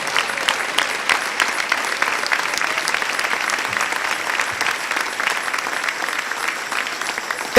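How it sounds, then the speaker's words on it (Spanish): A church congregation claps enthusiastically during a morning service, a dense, steady patter of many hands that continues throughout at moderate loudness. "Denle un aplauso al Señor en esta hermosa mañana."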